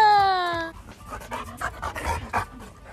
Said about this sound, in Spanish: Son mis perros que no aparecen nunca.